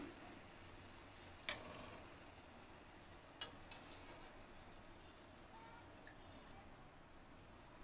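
Small drops of thin boondi batter hitting hot oil, giving a soft, steady low sizzle with a few faint, brief drip-like pops scattered throughout, quiet and close with no talking.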